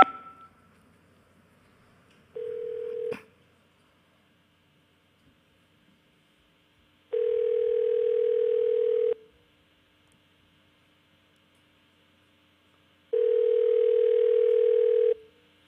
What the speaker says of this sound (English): I think it's a fax machine